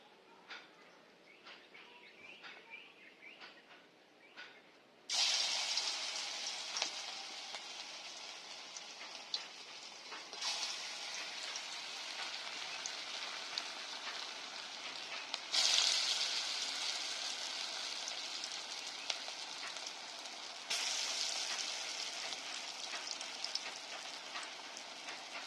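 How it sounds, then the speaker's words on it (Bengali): Pakoras frying in hot mustard oil: after a quiet start, a loud, steady sizzling hiss breaks in and carries on like heavy rain, swelling slightly in a few surges as more batter goes into the pan. "তেল গরম হয়ে গেছে, আমি এবার পকোড়া ছেড়ে দিচ্ছি।"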